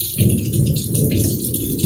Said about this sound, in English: Now it's raining. I'm just pointing it at the storm, and we're all chilling.